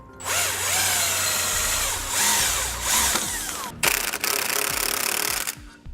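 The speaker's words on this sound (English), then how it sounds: "we can go ahead and start tightening our U-bolts" A power tool tightens U-bolts on Air Lift LoadLifter 5000 helper springs fitted to a 2011 Ford F-250, running in several loud, sustained bursts with brief pauses between them, near and without talk.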